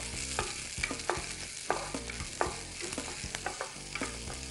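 Finely chopped onions and green chillies sautéing in a pan, a steady sizzle with repeated scraping stirs of a spoon at an even rhythm, close up with no voices.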